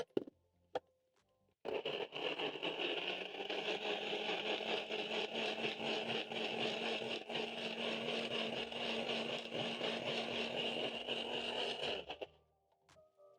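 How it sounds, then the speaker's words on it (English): A Nutri blender purees tomatoes, a steady loud motor whir with grinding hiss running about ten seconds alone, starting abruptly and cutting off near the end. "Then I'm going to cover and blend until smooth."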